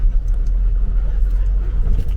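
A car rolls steeply downhill on a high mountain road near Hikkim, a steady loud low engine and road rumble filling the cabin throughout without a break.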